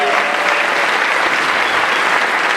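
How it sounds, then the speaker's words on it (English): Loud, close applause from a crowd at a city inauguration ceremony honoring township trustees, a thick continuous clatter of hands throughout. "let's give them a round of applause"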